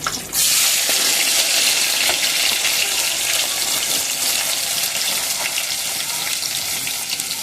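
Spring onions and cumin seeds hit hot oil in a pan and set off a loud, steady sizzle that hisses continuously and close up with no pause and no talking.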